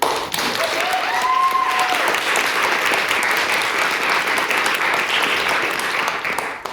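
Sustained audience applause at a debating society event, a steady wash of clapping from a full room that holds at an even level for several seconds before starting to thin at the end.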